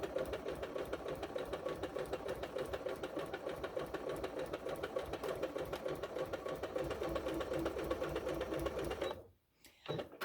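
A sewing machine stitches quilt fabric at a shortened stitch length, running as a steady, close, rapid mechanical whir for most of the time, then briefly stopping before starting again, with no talk.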